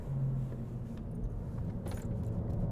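Honda Civic Si (2022) taking a sharp turn in second gear, a steady low engine drone and road rumble from inside the cabin with faint rattles, no talk.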